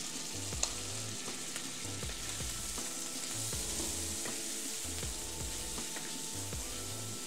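Radish greens fry with shrimp in a pan, a soft continuous sizzle under repeated scraping strokes of a spatula stirring at a steady rhythm, no voices.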